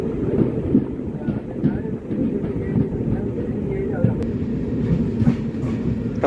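A train runs near Kollengode railway station with a heavy, continuous rumble and rattling wheel noise, rising and falling slightly, with some wind buffeting on top.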